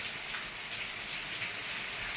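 Steady rainfall, a soft continuous patter and hiss of drops on surfaces, fairly faint and unbroken, no voices.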